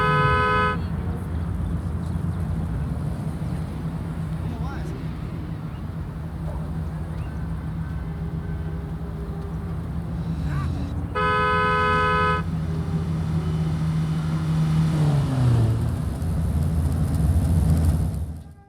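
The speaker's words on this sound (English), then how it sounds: "if you drive around the streets of Just Cause 4 and beep your horn" A car horn honking twice in Just Cause 4 while a limousine drives city streets, a short beep early then a longer toot later, over steady engine and traffic noise with a rising engine whine near the end.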